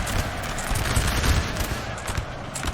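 Loud, crackling musket volleys in a Napoleon Total War battle in France, massed line infantry firing into troops charging toward them, with shots rippling together in a continuous ragged roar.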